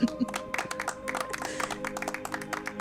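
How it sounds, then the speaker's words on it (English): Scattered clapping from a small group at a Hollywood party, a few uneven claps under and between soft background voices, fairly quiet and close. "I heard clapping."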